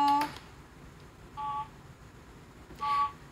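Telephone keypad dialing tones sound as a call is connected for a live stock-advice phone consultation. Three short, clear beeps come at uneven intervals over a quiet background.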